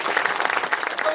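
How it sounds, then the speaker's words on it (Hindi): A crowd at a Hindi speech claps for the country's martyrs, a short run of brisk, fairly loud clapping from many hands with no distinct voices. "तालियां बजाओ उन शहीदों के लिए।"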